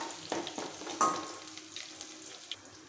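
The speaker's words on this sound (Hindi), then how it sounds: "तड़का डालेंगे, अच्छे से चटकने देंगे।" Spices tempering in hot oil for upma crackle and sizzle with sharp pops over a soft frying hiss, close and fairly quiet, no talking.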